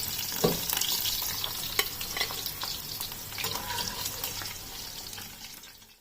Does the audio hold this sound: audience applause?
no